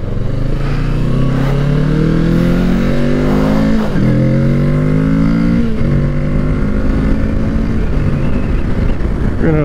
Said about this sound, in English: So here we are on the brand new 2020 Kawasaki Ninja 650.